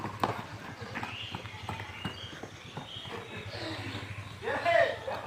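A black horse's hooves clip-clop in a steady, rhythmic beat close by, set against outdoor background noise in Ghazipur district.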